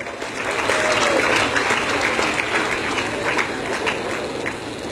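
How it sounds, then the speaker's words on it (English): A graduation ceremony audience applauds steadily, dense clapping that swells quickly and holds at a loud, even level throughout. "Can we give all of them a round of applause?"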